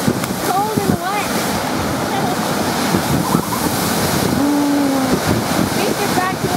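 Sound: big waves crashing at Spencer Smith Park, Burlington, Ontario

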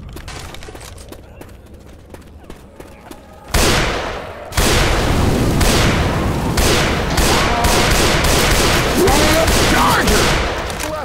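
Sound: gunfire in video game Left 4 Dead 2

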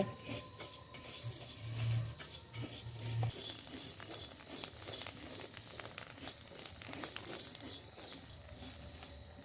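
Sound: rice being dry-fried in a pan

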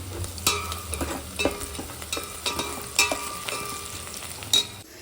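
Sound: ginger garlic paste frying in pan for chicken biryani

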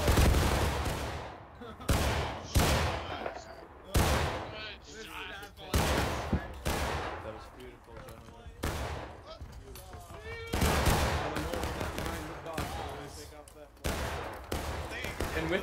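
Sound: musket gunfire in War of Rights video game

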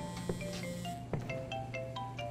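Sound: phone ringing in the video game Crime Scene Cleaner

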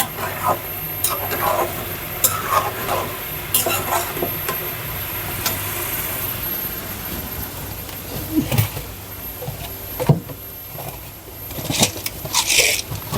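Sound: spices with bay leaf and cinnamon being sautéed in a pan

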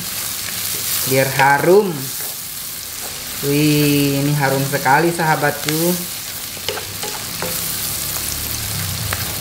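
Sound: onion and kaffir lime leaves frying in a pan

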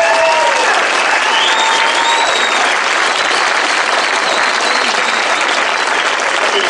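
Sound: audience applause

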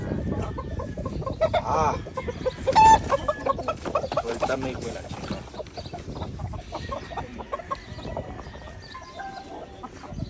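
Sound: roosters clucking

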